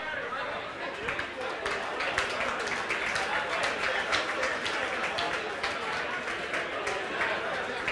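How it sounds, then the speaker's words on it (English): A gathered audience at a GAA event gives a round of applause for the chairman of the referees' assessors, a fairly distant, steady clapping with scattered chatter mixed in. "Might give him another round of applause there, ladies and gentlemen."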